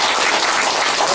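Applause from a gathered audience of staff and company guests honoring a team leader at a corporate event, a dense, steady wash of clapping filling the whole short moment without any voices.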